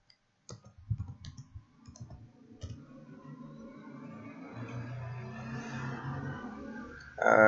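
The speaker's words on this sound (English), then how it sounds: "So this should be click" Click sound effect for a Godot game, a few sharp separate clicks at the start followed by a longer textured clicking wash that swells and ends in a loud burst.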